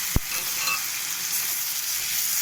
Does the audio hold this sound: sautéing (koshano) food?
yes